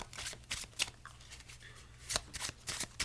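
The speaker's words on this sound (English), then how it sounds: "I do a false shuffle there." Playing cards are false-shuffled in several quick riffle bursts, close and crisp, with short pauses between them and no talking.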